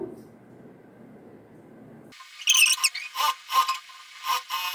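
A sewing machine stitches a blouse lining in quick bursts of mechanical clatter, starting after a quiet stretch of low room hum and stopping and restarting several times at close range.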